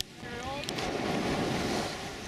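Surf washes and rushes steadily on Kata Noi Beach in Phuket, Thailand, mixed with gusty wind noise buffeting the microphone; no talking.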